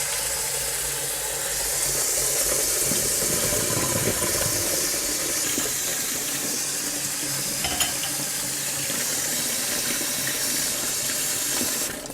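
Cold water runs steadily from a kitchen tap in Turkey during summer, a continuous close hiss and splash filling into a sink with no talk over it.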